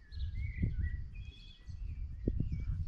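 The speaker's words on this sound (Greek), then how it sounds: "Απόλυτη ησυχία, ακούω μόνο τα πουλιά, παιδιά." Faint birds chirp and trill in the distance, thin calls drifting over a quiet, low outdoor rumble with a few soft bumps, at the harbour of Mathraki island, Corfu, Greece.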